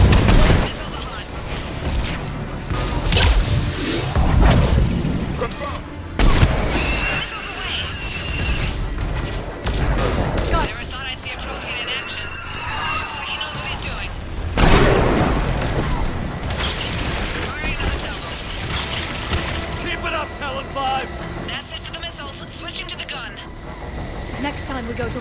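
Missile strikes and explosions in Mass Effect 3 build into loud booming blasts and rumbling impacts, heaviest near the start and again midway, among battle noise and voices.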